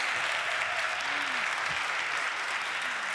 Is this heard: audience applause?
yes